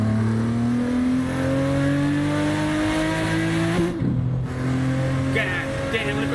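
Toyota Supra in the racing game Assetto Corsa, its engine droning loud and steady with rising harmonic pitch, a brief break near the end before revving again, tire noise under it.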